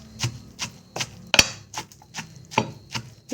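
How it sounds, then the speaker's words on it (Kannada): Okra is pounded by hand for a spicy chutney: sharp, close thuds land in a steady rhythm, about nine strokes in a few seconds, one hitting noticeably harder, with no talking. "ಈಗ ಬೆಂಡೆಕಾಯಿ ಹಾಕಿ ಸ್ವಲ್ಪ ಕುಟ್ಟಿ ತೆಗೆದುಬಿಡೋದು"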